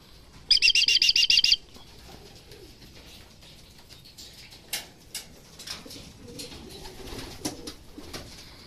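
Racing pigeons arriving at a loft during young-bird training for a derby in San Jose, Nueva Ecija: a short burst of wing-flapping up close, then scattered soft flutters, clicks and faint calls over quiet outdoor ambience.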